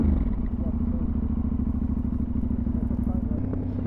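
A 2025 Aprilia Tuareg 660 motorcycle being ridden, its engine droning steadily and close with a rhythmic low throb and rattling clatter throughout.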